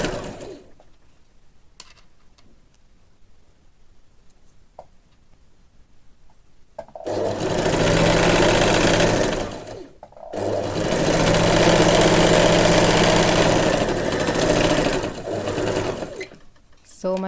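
Sewing machine stitching the side seam of a dress from the armhole, a loud steady mechanical whir in two long runs with a brief pause between, preceded by quiet handling and a soft-spoken voice.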